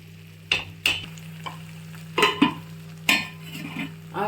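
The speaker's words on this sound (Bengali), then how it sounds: "আর এদিকে আমি মশলাটাও এখনো ভাজছি" A ginger spice paste fries in a pot for khichuri while a spoon stirs it, producing irregular scraping strokes and clinks over a low, steady sizzle, close and fairly loud.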